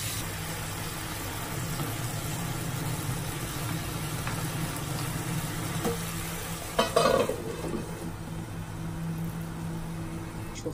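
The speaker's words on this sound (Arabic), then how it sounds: "افضل اقلب فيها لغاية ما كلها تتحمر او قصدي يغير لونها" Food frying in a pan sizzles steadily while being stirred until browned. The hiss is continuous and close, with a few louder scrapes and clatters partway through and no speech.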